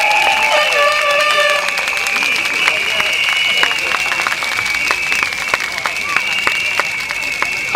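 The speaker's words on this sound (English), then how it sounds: "Round of applause." Crowd at a Sengkang political rally claps for a speaker being welcomed, a steady moderate applause with scattered sharp claps, alongside a persistent high-pitched tone.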